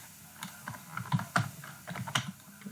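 Typing on a computer keyboard while filling in a web form: a short run of close, crisp key taps in an irregular rhythm, moderately quiet, with no speech.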